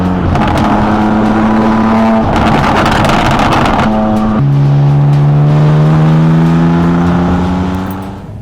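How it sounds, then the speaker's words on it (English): A BMW M2 Competition with its S55 engine, fitted with a Stage 2 FBO package, drones loudly and steadily on the road, its exhaust note holding and shifting pitch through gear changes with no talking. "So we have come out on a test drive with the M2 competition."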